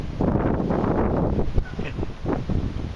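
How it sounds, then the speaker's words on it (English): Outdoor wind blows hard across the microphone in a dense low rumble with short buffeting surges, loud and close throughout. "I'm hoping that the wind doesn't cause too much of a thing in the video"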